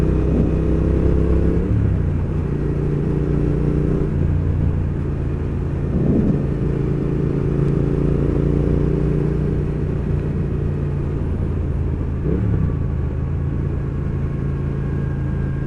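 A Triumph Thruxton R motorcycle on the move, its engine giving a steady, loud rumbling drone with shifting tones and a few brief rises in pitch, accompanied by continuous wind noise and no talking.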